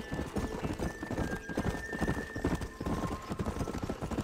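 Horses clip-clop steadily in the Red Dead Redemption video game, brisk close hoofbeats with a brief whinny over a tonal game background.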